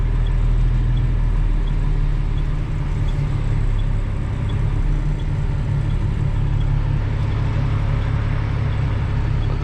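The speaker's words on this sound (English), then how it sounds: "So we're still ripping around in the old Western Star." An old Western Star truck on the road: a steady, loud, low engine drone with constant road rumble throughout, no voices.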